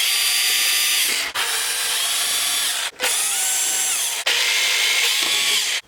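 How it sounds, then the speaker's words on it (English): Power drill whirring loudly and steadily as it undoes T24 Torx bolts on the display tray of a 2021 Can-Am Outlander ATV, in four long bursts separated by brief stops, close up with no talking. "We have to undo these T24 Torx bits in the 4 corners"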